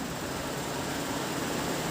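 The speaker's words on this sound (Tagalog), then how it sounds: "Naglagay pa ako ng USB fan." A constant whooshing rush of air from a small USB fan cooling a toroidal pure sine wave inverter, steady and close, with no breaks or other sounds.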